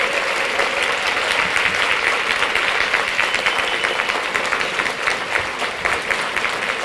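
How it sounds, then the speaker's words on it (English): A crowd applauds warmly for Krista Beverly, steady dense clapping that carries on for several seconds without pause, close and fairly loud, with no voices standing out. "Can we give her a round of applause?"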